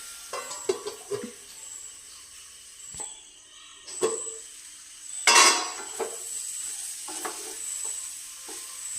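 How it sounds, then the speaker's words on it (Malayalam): A spoon stirs nutmeg pickle in a pan, giving scattered clinks and scrapes against metal over a faint sizzle, with quiet gaps between strokes. "നന്നായിട്ട് ഇളക്കി കൊടുത്തിട്ട് അല്പനേരം മൂടി വയ്ക്കാം"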